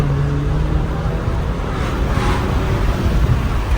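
A BMW E46 with an M54 engine accelerating, a steady broadband engine roar with a brief rising swell partway through, heard close and continuous with no talking.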